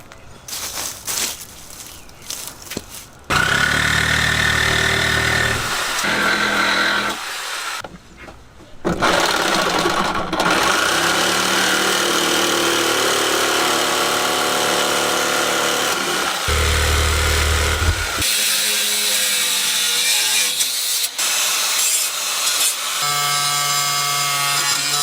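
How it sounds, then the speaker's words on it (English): An angle grinder and a reciprocating sawzall at work outdoors, loud and continuous, with whining grinding passes broken by short pauses and harsher buzzing cutting spells. "I'm gonna get the grinder and then also the sawzall, and then start cutting that off and start grinding out all the stuff."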